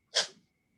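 A single short, sharp human sneeze, close and bright, bursting out once and fading quickly into quiet.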